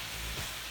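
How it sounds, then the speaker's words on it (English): Cilantro, garlic and salt sautéing in a large bit of hot lard give off a steady, soft sizzle that holds evenly for under a second, with no talk over it. "And then I'm just gonna saute this."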